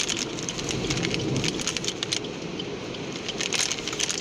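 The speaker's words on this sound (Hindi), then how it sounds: "हल्की हल्की सी बरसात हो रही है" Light rain falling outdoors, a steady close hiss of drops with scattered sharper patters, continuous and fairly loud, with no talking.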